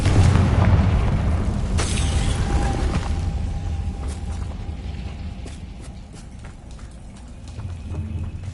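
A Confringo fire spell explodes in the Hogwarts Legacy video game, giving a loud, booming blast with a sharp burst near the start and a dense rumbling roar that slowly fades, with no talking.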